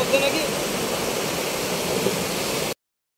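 A rushing mountain stream in the Nepal hills gives a loud, steady roar of churning water for under three seconds before cutting off to silence.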